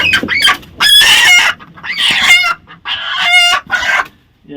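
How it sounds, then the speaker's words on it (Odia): Kadaknath chickens, an all-black breed on an integrated farm, cluck and crow in loud repeated bursts close by, with short pauses between calls and no talking. "ଏ ହେଉଛି ଆମର କଡ଼କନାଥ କୁକୁଡ଼ା"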